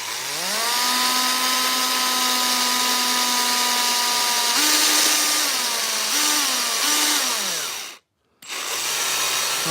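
A power drill runs steadily as it bores a hole in plastic for a rocker box build, its motor whine shifting pitch under load, then briefly cutting out before spinning up again.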